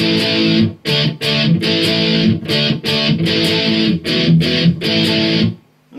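Distorted electric guitar plays the strummed intro riff of a song, loud and close in choppy rhythmic bursts with brief gaps, ending on a sustained chord.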